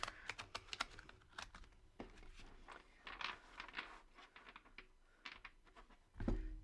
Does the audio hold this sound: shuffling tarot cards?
yes